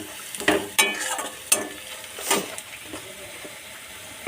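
Turmeric and chili powder fry with browned garlic and onion in a pan, stirred with a few sharp scraping strokes over a soft, steady sizzle, close by with no talking.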